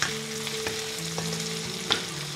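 Onion frying in a pan with a constant close sizzle, a low steady hum beneath and a couple of small clinks from stirring.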